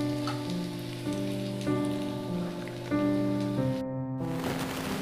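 Pakoras frying in a pan of hot oil give a steady, close sizzle that runs unbroken for about five seconds, with a sustained tonal hum layered over it.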